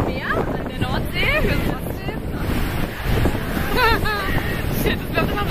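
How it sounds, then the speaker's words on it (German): Gusty North Sea wind roars against the microphone while several people talk over it, with waves faintly beneath. "Es ist heute mega windig."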